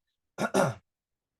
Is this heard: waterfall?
no